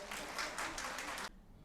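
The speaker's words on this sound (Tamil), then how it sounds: "உங்களுக்கு ஒரு பாராட்டு, உங்களுக்கு ஒரு கைத்தட்டு." An audience at a public speaking event in Srirangam, Tiruchirappalli, claps in a brief, faint burst of applause that cuts off abruptly after about a second.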